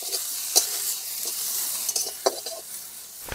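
Tomato, onion and turmeric frying in a pan and being stirred, a steady soft sizzle with a few scrapes and clinks of the spoon against the pan.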